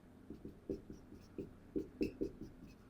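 A pen writes numbers on paper while a calculation is worked out, producing a series of short scratchy strokes and taps at an irregular rhythm, close and fairly quiet, with no talk.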